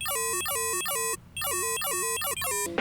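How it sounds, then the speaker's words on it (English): A buzzy, harmonically rich synth patch with its pitch raised repeats a quick series of downward-sweeping stabs in a steady, glitchy rhythm, loud and close, with one short pause midway. "I'm gonna bring up the pitch on this bitch."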